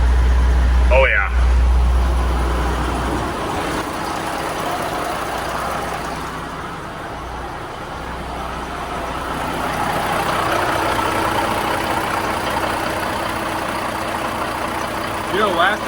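A Peterbilt 359 truck with a new PDI turbo rumbles close by with a steady low engine drone that swells and eases, while a person talks over it.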